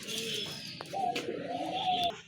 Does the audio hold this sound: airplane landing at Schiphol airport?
no